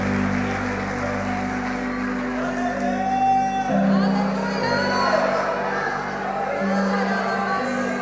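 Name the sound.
congregation applauding in church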